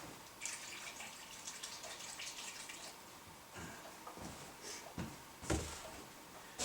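Water pours into a pot of cabbage soup in a kitchen, faint splashing and trickling in short bursts at close range.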